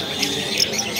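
Lovebirds and yellow-sided conures at a pet bird market give shrill, close squawks and chirps in a brief, busy burst.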